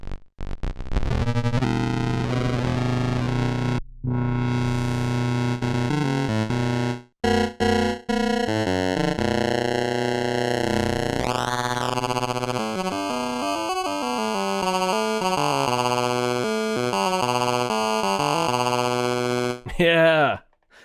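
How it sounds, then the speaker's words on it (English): A Korg XFM synthesizer plays through a bit crusher effect, producing gritty, harmonically rich tones with sliding pitches and abrupt cuts between notes, loud and alone. "Let's go to a bit crusher now."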